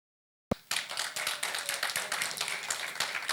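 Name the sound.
audience applause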